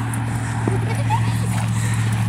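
Tennessee Walking Horse cantering, hooves striking in a steady rhythmic clip-clop over a constant low hum.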